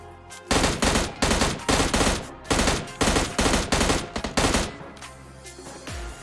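Rapid bursts of M16 automatic rifle fire in PUBG Mobile Lite, loud and close, coming in about seven tight volleys over several seconds before trailing off into quieter game ambience.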